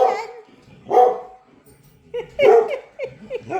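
A Siberian Husky and another dog bark and yip while playing, with three loud bursts of barks separated by quieter pauses, close by.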